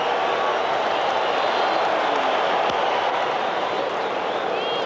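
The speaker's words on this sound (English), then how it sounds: "And listen to the difference in the crowd now." The crowd at the 1980 World Series game between the Kansas City Royals and Philadelphia Phillies cheers and applauds, a broad, steady roar filling the stadium.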